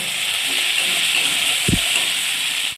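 Turmeric and chili powder frying in hot oil in a home kitchen, a steady loud sizzle and hiss throughout with a brief low knock near the end, no voices.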